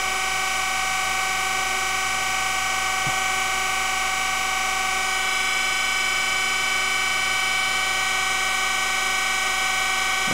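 A surface grinder doing cylindrical grinding on a bushing runs with a loud, steady, unbroken whine and hum, close by and without talk.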